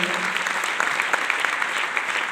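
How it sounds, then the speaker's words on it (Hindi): A crowd claps loudly and briskly for Kuldeep at a business gathering, a short dense burst of applause with scattered sharper claps standing out. "जोरदार तालियां कुलदीप जी के लिए मैं चाहता हूं"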